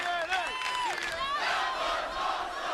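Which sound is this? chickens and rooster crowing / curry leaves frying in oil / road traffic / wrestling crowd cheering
wrestling crowd cheering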